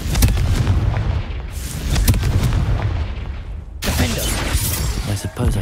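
Explosive Confringo spell blasts in the Hogwarts Legacy video game, several booming bursts over about six seconds, the loudest and most crowded cluster coming in the last two seconds.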